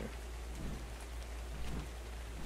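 Video-game rain in Ark falls inside a cave as a steady, dense patter of drops. It sounds soft and constant, with no voices over it.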